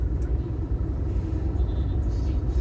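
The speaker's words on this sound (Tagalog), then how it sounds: "medyo may konting traffic" Steady low road rumble of car traffic moving slowly around MOA in Manila, a continuous dense drone of engines and tires with no clear individual passes and no talk.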